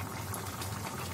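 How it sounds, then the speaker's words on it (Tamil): Crab curry gravy boils steadily in a pot, a faint continuous bubbling simmer heard alone over about a second. "குழம்பு நல்லா கொதிக்குது."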